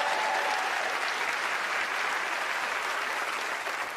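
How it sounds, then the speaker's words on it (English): Sustained applause from a studio audience greeting Penn and Teller as they come on stage at a magic competition show, a steady dense roar of clapping that fills the whole stretch without letup. "a round of applause for Penn and Teller as they join me on stage"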